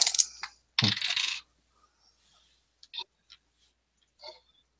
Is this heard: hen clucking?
no